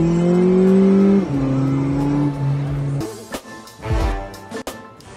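A car drives on the road, its engine note loud and steady with a falling pitch shift, then rougher rumble and clunks from the cabin in the second half.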